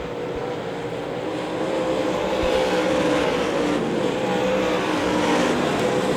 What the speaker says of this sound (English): Donnie Ship almost spins the car out, gets him a little tire, big tire action there